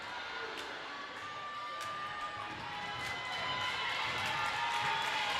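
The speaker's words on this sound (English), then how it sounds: "And listen to this crowd." A high school girls basketball crowd in a gym cheers and shouts continuously, a dense roar of voices with scattered clapping and whistles that swells slightly toward the end.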